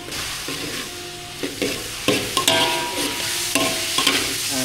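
Food frying in a pan, a steady sizzle with intermittent scraping and stirring clatters, close up and fairly loud.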